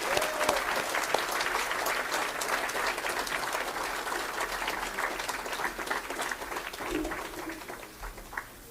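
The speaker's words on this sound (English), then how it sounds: "So I'd like you to ask to give a big round of applause." Steady applause from a sizable crowd at the Community Radio Awards 2024 ceremony, many hands clapping continuously at moderate volume for several seconds without a pause.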